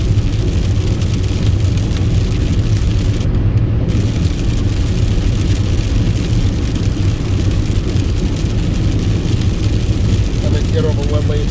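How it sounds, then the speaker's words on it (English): Cars pass at speed on a rain-soaked multi-lane highway, throwing up a constant, loud hiss of tyre spray over the low rumble of the engine and road noise heard from inside a moving car. "Listen to the sound of the water."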